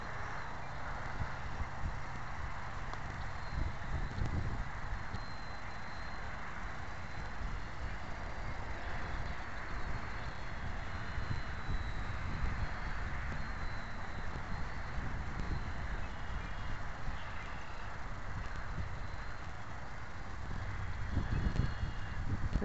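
Gusty outdoor wind buffets the microphone steadily and fairly loud while a small T-28 model is flown, with low rumbling bursts and no speech.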